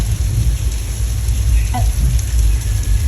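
Heavy, continuous artificial rain effect on a studio tour ride, with a low rumbling roar, steady and loud throughout, and a brief faint voice-like sound partway through.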